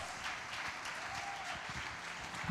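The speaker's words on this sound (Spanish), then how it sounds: "Yo no sé si hay alguien aquí que puede levantarle un aplauso a su Dios." A church congregation claps for God during an evangelical sermon, a steady, moderately quiet wash of applause lasting a couple of seconds, with a low hum beneath.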